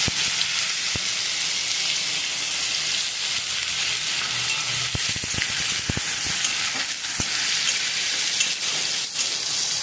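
Chopped onions fry in hot oil with bay leaves in a pan, a steady loud sizzle with occasional crackles and stirring clicks, continuous throughout and with no voices.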